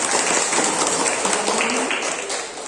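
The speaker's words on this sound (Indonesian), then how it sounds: "Tepuk tangan semuanya." Applause in a classroom after a vinegar-driven cone volcano eruption demonstration, a dense, steady patter of clapping that runs for the whole moment and fades slightly at the end, with no talking over it.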